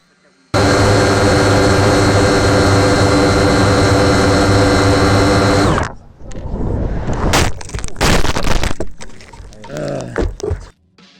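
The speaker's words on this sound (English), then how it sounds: "the drone completely gave out and came crashing down on the phone" A drone's buzzing engine runs loud and steady for several seconds, then cuts out into a series of sharp cracks and clattering impacts as it crashes down onto a OnePlus 6T phone.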